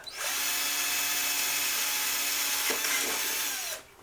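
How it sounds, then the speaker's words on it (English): A power drill whines steadily and loudly at close range while boring a small hole of up to 1/8 inch, holding nearly four seconds before spinning down abruptly. "Drill that hole, and then I just work up from there until I get to an 1/8 inch."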